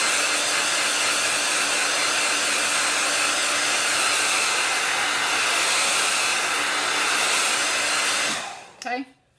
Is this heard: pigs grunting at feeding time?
no